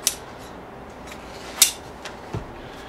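Scissors make a cut into a needlepoint piece, with a few crisp isolated snips spaced out over a quiet background and no speech.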